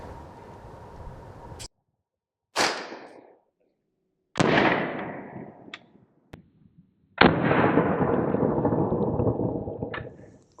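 Sharp gunshots from a 300 Blackout firearm fired into German Level 1 body armor, with several loud separate cracks spaced by silent gaps, each trailing into a long echoing decay outdoors.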